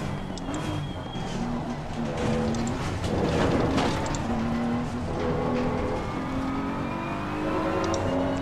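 A car engine in a racing video game played with a PXN V10 steering wheel revs and roars, its pitch rising and falling as the car accelerates and shifts, loud and continuous with no talk.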